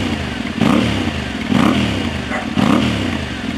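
A Moto Morini X-Cape adventure motorcycle engine, heard close up, pulses through three distinct revs rising and falling over a rough, clattering idle.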